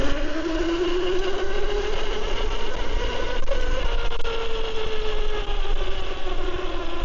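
A Gearfast Zero 7 electric scooter rides along with a steady whining motor tone that rises and falls slightly over a constant rushing road and wind noise, close and loud, with no talking.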